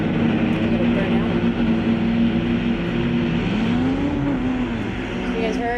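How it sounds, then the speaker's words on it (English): A Duramax diesel-powered dragster at a drag race holds a loud, sustained engine drone with a rising pitch sweep midway, close and continuous. "You guys heard that definitely got a Duramax in this dragster."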